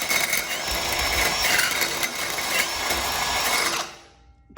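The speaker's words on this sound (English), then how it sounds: "You just simply insert it all the way until you get to the first baffle, all right? Then drill it out." Close, continuous whirring and grinding of a drill boring out the baffle inside a slip-on exhaust for an Indian Scout Bobber motorcycle, with steady rattling metallic texture that cuts off abruptly at the end.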